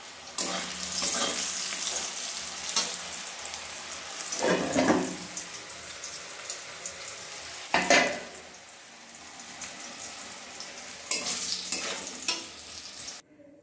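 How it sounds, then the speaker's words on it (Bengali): Pumpkin pieces fry in a pan with a steady sizzle and repeated scraping stirs. Louder bursts of running tap water come and go in between, and no one speaks. "এদিকে হচ্ছে মিষ্টি কুমড়ো ভাজছি"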